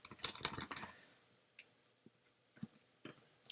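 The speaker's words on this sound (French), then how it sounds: "je tape directement l'information" A computer keyboard is typed on in a quick burst of close keystrokes, then a few isolated taps follow after a pause, in a quiet room with no talking.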